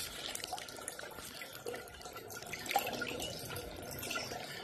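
Water trickles out around the bottom of a culvert pipe under a water wheel, making a soft continuous splashing and dripping babble with no voices.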